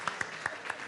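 A short burst of applause for a voice actor at a commercial voice-over forum: four or five sharp, separate claps close by, not a full crowd ovation.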